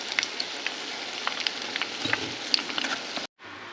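Chicken pieces coated in batter fry in hot oil for orange chicken, giving a steady close sizzle with scattered crackling pops before cutting off abruptly near the end.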